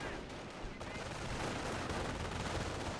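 Sniper rifle fire in a Company of Heroes battle, with shots cracking out amid dense, continuous gunfire and battle noise that stays loud throughout.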